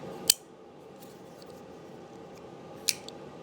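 A Milwaukee Fastback folding knife with a liner lock snaps shut with two crisp, sharp clicks about two and a half seconds apart, close up against a quiet background.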